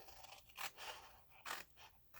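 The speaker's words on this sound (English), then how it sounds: "So I'm just going to use my scissors for this." Scissors cutting through paper at a craft table, a few quiet, close snips and scrapes in slow succession.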